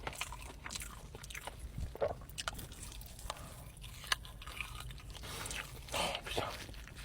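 Smoked pork ribs bitten and chewed close up, with soft wet crunches and smacking bites scattered over about seven seconds, no talk.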